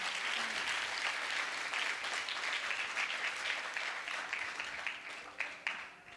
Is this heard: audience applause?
yes